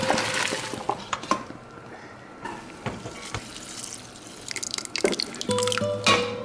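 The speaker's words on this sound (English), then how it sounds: "So I gotta hurry and drain the noodles and add the sauce." Cooked noodles drained in a kitchen sink, water pouring and splashing with scattered drips and clatters, close and steady throughout.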